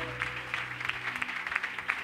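Congregation applauding in a church service, steady dense clapping with scattered sharp claps, moderately distant and fairly quiet, with no talk over it.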